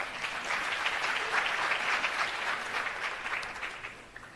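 Audience applause fills a hall at a launch event for technology centres of excellence, a steady dense patter of many hands clapping at once, sustained for several seconds before tapering slightly at the end, with no voices.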